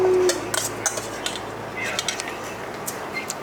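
Mexican-style fish ceviche is stirred in a bowl with juice, giving soft, scattered clicks and light scrapes of a utensil against the bowl over a quiet background.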